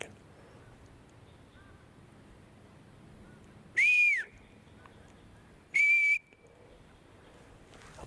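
Two loud, clear whistled notes from a wild bird deep in a forest, each about half a second long and spaced roughly two seconds apart, rising then falling over quiet background hiss.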